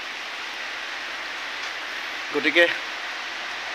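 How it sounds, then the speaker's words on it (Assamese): Heavy rain pours down in a steady, dense hiss that fills the whole stretch, with a brief murmur of a voice breaking through near the middle. "এতিয়া খুব জোৰকৈ বৰষুণ আহি আছে।"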